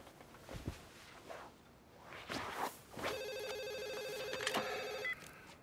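Landline telephone ringing indoors in a French TV comedy series: a bright electronic ring pattern starts partway through and repeats for about two seconds, preceded by shuffling footsteps and handling noises, with no speech.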